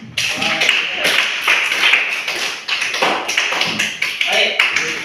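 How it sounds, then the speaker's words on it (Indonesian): Classroom applause for a student group, a steady patter of many hands clapping close by for several seconds, with voices mixed in. "kita kasih aplaus untuk kelompok"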